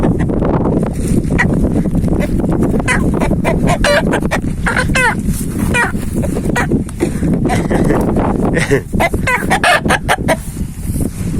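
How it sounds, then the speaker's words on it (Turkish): A rooster crows repeatedly at close range, loud and insistent, mixed with clucking and a person's laughter and voice in the background. "Arkadaşlar bakın şimdi horozu biraz sinirlendireyim mi?"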